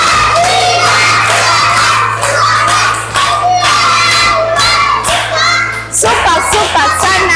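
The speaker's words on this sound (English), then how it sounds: "Clap hands for Shara." Young children in a Kigali classroom clap and cheer loudly for a classmate, a lively crowd of shouting, whooping young voices with clapping over a steady background hum.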